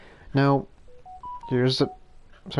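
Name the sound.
phone ringing or dialing tones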